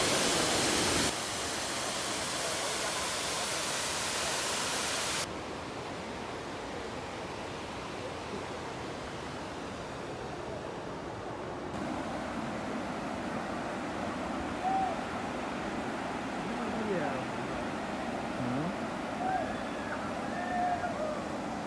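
Uda Diyaluma waterfall near Ella pours with a constant broad rushing roar, its level shifting slightly partway through as the listening position changes.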